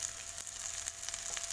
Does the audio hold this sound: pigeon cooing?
no